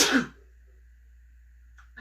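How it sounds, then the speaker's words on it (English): A single short sneeze, close and loud, followed by near silence with a faint hum. "had to sneeze into my sneeze pocket"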